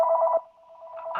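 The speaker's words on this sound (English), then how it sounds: "my phone is ringing" A telephone rings with a steady electronic tone that breaks off, resumes more softly, and ends in a brief burst of noise, heard alone and close during a Zoom board meeting.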